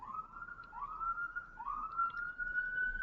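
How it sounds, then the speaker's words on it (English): A police siren wails outside a Miami Beach studio, heard from a distance, its rising tone sweeping up repeatedly at a steady pace. "So right now, according to Adam Mancini, you can hear the sirens."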